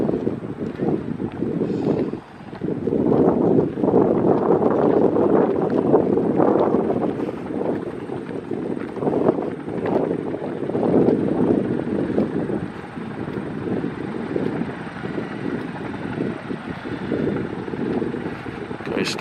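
A helicopter hovers outdoors near an air museum, a steady, rumbling rotor drone heard continuously with wind buffeting the microphone, and a person talks over it.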